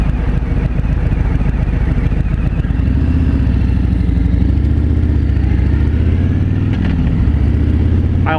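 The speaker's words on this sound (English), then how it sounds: "I like the shakiness of the rubber mounted" A Harley-Davidson Road King Special, 2017, with a rubber-mounted 103 engine runs with a steady, loud, low rumbling throb and a slight rise in revs partway through, with no voices.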